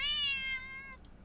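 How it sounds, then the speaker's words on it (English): A single drawn-out cat meow, annoyed in tone, near and clear, trailing off after a second with faint rustling, no voices. "Cat sounds annoyed with you."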